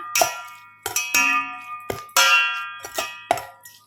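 Several ringing metallic clangs, like a utensil striking a metal bowl, each strike sustaining a bell-like tone that decays before the next hit, irregularly spaced.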